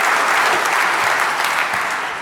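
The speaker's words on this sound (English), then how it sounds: "Round of applause for Sanjay." A keynote audience at a tech conference on networking gives a round of applause, dense steady clapping that slowly tapers off toward the end.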